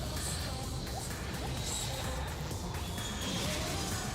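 A rocket launching in the video game Danganronpa 2 produces a dense, unbroken roar with rushing whooshes and crashing bursts layered on top. It stays loud and constant for the whole stretch.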